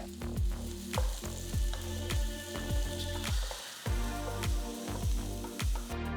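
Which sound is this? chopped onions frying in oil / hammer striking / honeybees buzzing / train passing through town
chopped onions frying in oil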